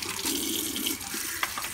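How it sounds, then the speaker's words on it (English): PVC pipe from a reef aquarium return pump gets brushed under a running tap, a steady close rush of water with scrubbing and a brief splash near the end. "I'm just going to brush the PVC here"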